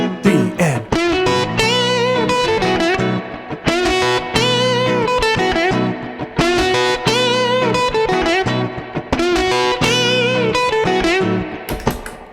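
A distorted electric guitar plays a standard minor pentatonic blues rock lick, repeated several times over a full backing track with drums and bass, loud and upfront without any talking.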